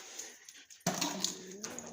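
A dog gives a faint whimper and then a sharper whine close by, brief and quiet, in a garage where a Dodge Cummins truck's sway bar linkage is being replaced.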